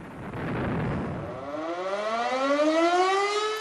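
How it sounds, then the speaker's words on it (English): Air raid sirens wail at dawn in commemoration of the first civilian casualties of the Second World War, rising slowly in pitch and swelling louder, a long mournful tone drifting from a distance with no talk. "sirens to commemorate the first civilian casualties of the Second World War"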